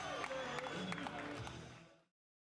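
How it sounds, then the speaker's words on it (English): Crowd applause and cheering for a fighter at an MMA cage-fighting event, a full roar of clapping with whoops mixed in, steady and loud before cutting off abruptly. "Let's give it one more round of applause for this man, Jonathan J.S.P. Pearce"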